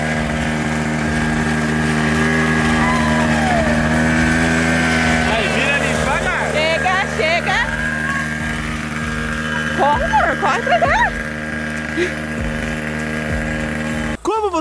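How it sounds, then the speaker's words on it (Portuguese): Small gasoline mini motorcycle running with a steady droning engine tone that shifts pitch as it is throttled, loud and close, with a child's and adults' voices chattering over it. "tinha um pouquinho de medo do barulho da moto"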